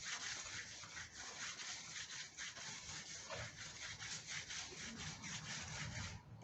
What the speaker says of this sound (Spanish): tiene que ser, recuérdense, lija muy fina